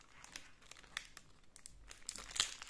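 Crinkly plastic packaging of a diamond painting kit is pulled and torn open up close, giving quick bursts of crackling and rustling that grow busier toward the end, with no one talking.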